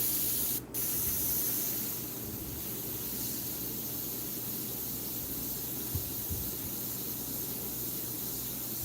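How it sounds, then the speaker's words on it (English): An airbrush spraying paint onto film while painting a rose, giving a steady close hiss that runs unbroken throughout. "Remember, I'm spraying on the film."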